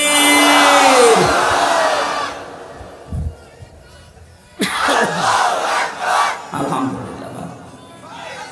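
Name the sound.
crowd shouting the takbir chant in unison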